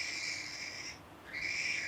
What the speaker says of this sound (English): If you can hear him screeching in the back there. He's still a chick.